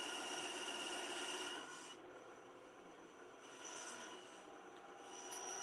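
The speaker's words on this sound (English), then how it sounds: "the wood he's cutting is on the bandsaw" A bandsaw cuts through wood in a workshop during a cosplay prop build, giving a steady, fairly loud rasping whine that dips in the middle and swells again, with no talking.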